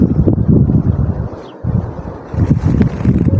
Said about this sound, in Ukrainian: Як бачимо по тому очерету пішов поривчик